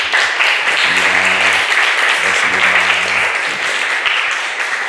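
A church congregation at Sunday worship applauds to welcome a newcomer, a steady wash of many hands clapping for several seconds, loud and sustained, with a low voice faintly underneath.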